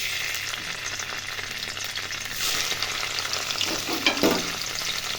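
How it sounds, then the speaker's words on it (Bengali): Paneer pieces fry in hot oil in a wok with a steady crackling sizzle that swells after they settle in, plus a few stirring clanks near the end and no talking. "তেলটা গরম হয়ে গেল, এখন পনিরগুলো ছেড়ে দিলাম"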